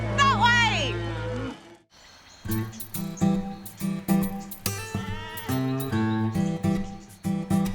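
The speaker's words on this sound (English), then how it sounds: "Hurry, cows! That way!" Cattle low in loud, drawn-out moos on an Australian farm, one long call at the start, then a busy mix of repeated moos and livestock calls layered over a lively backdrop.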